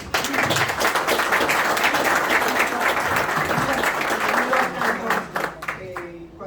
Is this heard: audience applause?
yes